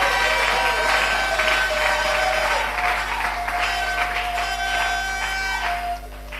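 A church congregation at a Sunday worship service applauds loudly, a thick, sustained roar of many hands clapping that fades slightly toward the end, with tonal music or organ notes ringing through.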